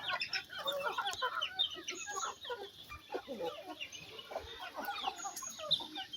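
A flock of chickens and chicks clucking and peeping close by in a busy, continuous chatter, with a faint voice now and then.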